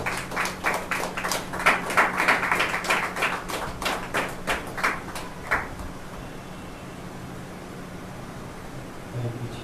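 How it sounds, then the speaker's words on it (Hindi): A church congregation at a Thursday healing service claps loudly in a brisk, rhythmic burst for about five seconds, then the clapping stops abruptly and leaves only a low hum. "आइए जोरदार तालियां प्रभु के दास के लिए"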